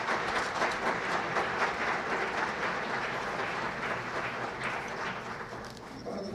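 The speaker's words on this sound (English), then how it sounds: "Please, a round of applause for all of you." Sustained applause from a conference audience at an airspace control event, dense steady clapping that fills the whole stretch and tapers slightly near the end.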